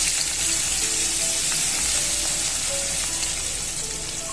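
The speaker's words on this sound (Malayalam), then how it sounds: "അതിന് നമുക്ക് ആദ്യമേ നമ്മൾ അരിഞ്ഞു വെച്ചിരിക്കുന്ന സവാള ഇടുക." Chopped onions sizzle in hot oil in a wok, the same oil used earlier for frying prawns for a Desi Chinese chilli dish; a steady, loud, close frying hiss runs throughout with no speech.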